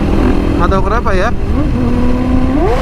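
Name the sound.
Husqvarna 450 FS motorcycle exhaust revving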